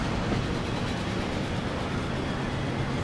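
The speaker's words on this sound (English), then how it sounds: "We can hear a steam engine coming in." Steam train approaching in the video game Transport Fever, a steady, broad rumble of engine and rolling wheels that holds at an even level throughout.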